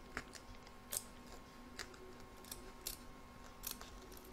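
Faint, sparse snips of scissors cutting a finished in-the-hoop embroidery free from its hoop, several quiet separate clicks spaced around half a second apart in a hushed room.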